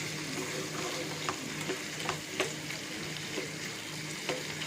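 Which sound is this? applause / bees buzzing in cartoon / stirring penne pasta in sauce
stirring penne pasta in sauce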